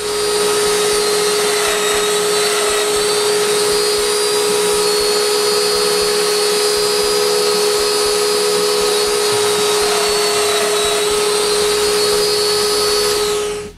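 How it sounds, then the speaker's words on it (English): A drill bores shelf support holes through a jig into a clamped wooden side support, a loud steady high-pitched whine running the whole time at close range, with no speech. "I clamp this to the workbench and drill all the shelf support on both side supports."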